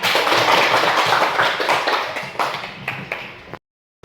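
Children clapping together in a classroom, a dense, loud burst of many small hands that thins out into a few scattered late claps before stopping abruptly.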